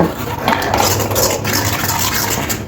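Milk being stirred in a pot on a gas stove while it boils, for homemade milk ice cream; a steady scraping and sloshing with faint utensil clinks runs close and continuous, with no talking.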